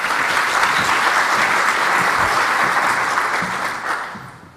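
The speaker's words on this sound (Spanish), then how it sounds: "Un aplauso." An audience at a university team's talk about a vacuum-train concept gives a full round of clapping, loud and dense, tapering off toward the end.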